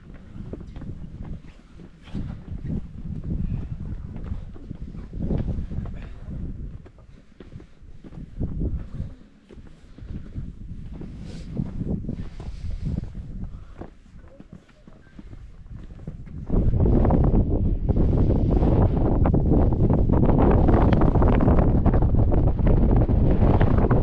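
Strong wind buffets the microphone on a steep hillside in Georgia in December, a steady rumbling roar that swells sharply louder for the last third.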